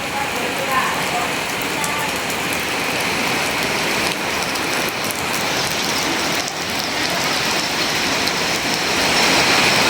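Heavy wind-driven rain pours down in a dense, loud, unbroken hiss and patter that stays steady throughout.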